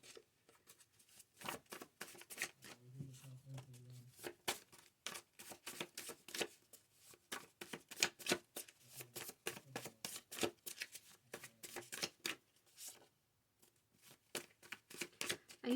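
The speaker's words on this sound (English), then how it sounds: "I usually shuffle these off camera, but I don't know, I feel like shuffling on camera today." Tarot cards being shuffled in quick, crisp bursts of riffling and flicking, close up and fairly quiet, with brief pauses between rounds.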